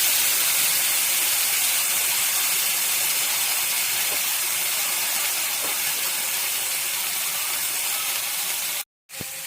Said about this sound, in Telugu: ఒక 1 టేబుల్ స్పూన్ ఆయిల్ వేసి ఈ చింత చిగురు వేసి మొత్తం ఫ్రై చేద్దాం మంచిగా